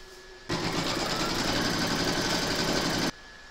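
Embroidery machine stitching a letter Y in the first colour round on a no-sew burp cloth, a steady loud mechanical whirr that starts abruptly, runs continuously for about two and a half seconds and stops sharply, with no talk.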